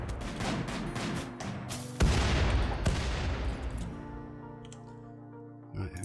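Gunfire during a Rimworld Alpha 13 battle: bursts of shots and heavier booming blasts that ring out and decay, with scattered further shots and game sounds trailing off at moderate loudness.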